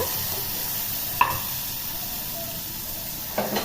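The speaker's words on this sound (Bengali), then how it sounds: "এবার সামান্য নেড়ে নিয়ে খুন্তি দিয়ে সামান্য নেড়ে নেওয়ার পর" A spatula stirs masoor lentils cooked with papaya in a hot pan, giving a steady sizzling hiss broken by two brief scraping knocks, with no talking.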